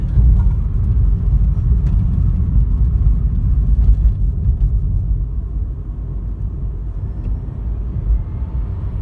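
A 2020 VW e-Up electric car picks up speed on the road after a stretch of roadworks. Steady low road and tyre rumble fills the cabin, easing slightly toward the end, with no talking.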